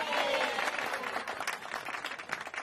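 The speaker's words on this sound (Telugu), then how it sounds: "క్లాప్స్" Applause and clapping from a crowd, a dense wash of many hands that stays steady and then turns more ragged and uneven, with faint voices mixed in.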